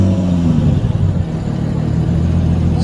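A Mitsubishi 3000GT at an outdoor car meet in Abu Dhabi runs close by, a loud steady engine drone with a deep low rumble throughout.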